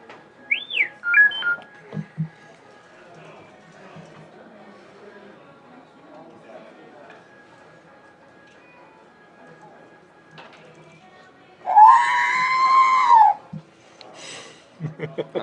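R2-D2 droid beeps and warbling whistles chirp out in short bursts, a quick rising whistle near the start and a longer burbling trill later, faint and sparse over a quiet room at an X-Wing tabletop game tournament.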